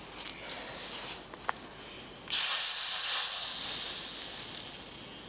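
A loud, sudden hiss of high-pressure air fills a Shanghai QB78 air rifle to 120 bar, bursting in after a quiet moment and then fading slowly as it continues alone.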